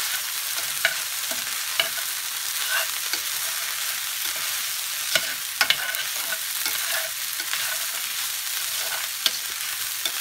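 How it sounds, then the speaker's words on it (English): Food browning in a pan with oyster sauce, stirred around under a constant crisp sizzle, with sharp spatula scrapes and taps popping out at irregular intervals and no voices. "And then you stir that around"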